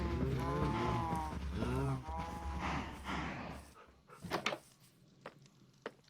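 Two dogs at a stronghold in the Primal Magick video game let out a run of loud, close barks and yelps, followed by a few scattered sharper barks as things quiet down.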